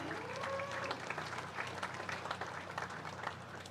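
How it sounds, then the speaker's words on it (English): Exhibitors at an FFA open beef show get a round of applause from the ringside crowd, dense steady clapping that runs throughout, somewhat distant, with faint voices mixed in. "give these exhibitors a huge round of applause for me real quick."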